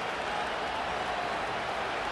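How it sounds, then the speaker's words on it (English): Stadium crowd in the Madden NFL 25 football video game, a steady, loud wash of cheering and roaring with no breaks. "This crowd turning up the decibel level."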